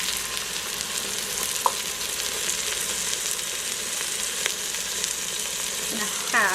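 Chicken shredded and stirred with salsa in a frying pan for dinner fills the clip with a steady broad sizzle, a few faint scraping stir sounds rising near the end, with no voices.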